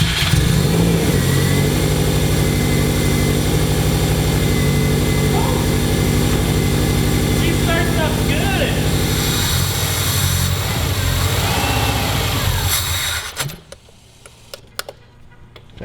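A built Subaru EJ205 flat-four in a WRX idles and revs loudly up close, its throttle climbing and falling in repeated blips for about thirteen seconds before cutting off abruptly to near silence.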